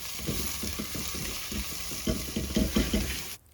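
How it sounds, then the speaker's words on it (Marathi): Onion and tomato frying in oil sizzle steadily while a utensil stirs them in quick, rhythmic scrapes, then the sound cuts off abruptly. "त्यामध्ये आता हे तेल टाकून कांदा आणि टोमॅटो छान भाजून घेते"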